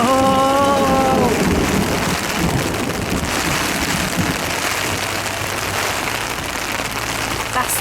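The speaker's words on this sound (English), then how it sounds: "That's thunder." Rain patters constantly on a tent at a festival campsite while a low, deep rumble of thunder rolls underneath, with a brief voice near the start.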